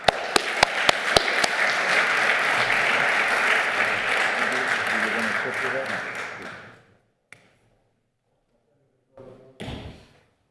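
Audience at a shipping and marine services forum applauds to welcome the IMO Secretary General, a few sharp claps leading into steady loud clapping that dies away after several seconds, followed by quiet and a couple of thumps.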